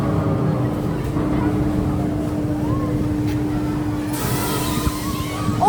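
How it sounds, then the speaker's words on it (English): Motor of the Waterspin ride at the Duinrell amusement park, a steady low mechanical drone with a constant hum running through it, loud and continuous, with a brief rise in hiss near the end. "Listen to those motor sounds."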